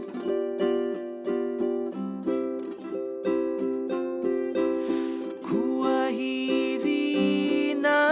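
A ukulele plays a Hawaiian song in a different position up the neck, with bright plucked notes and strummed chords in a steady, lilting rhythm, clear and close with no voices.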